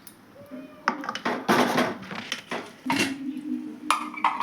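A spoon scrapes and clinks against a pan as fried peanuts are lifted out, in irregular metallic knocks and scrapes over the low sizzle of hot oil, close and moderately loud.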